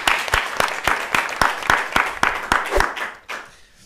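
Theatre audience at a stand-up comedy show applauding, with steady rhythmic clapping that fades out near the end; no talk over it.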